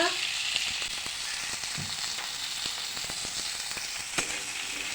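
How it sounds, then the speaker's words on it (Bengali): Green chillies and onion sizzle in a pan alongside frying rui fish, a steady bright crackling hiss with occasional pops and soft clicks, fairly close and without talking. "আমি এখানে কাঁচা লঙ্কাটা পেঁয়াজ দিটা দিয়ে দেবো কিছুক্ষণের জন্য"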